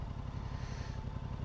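A motorcycle rumbles along on a ride, a steady close engine drone with a low throbbing pulse, no clear gear change audible in this short stretch.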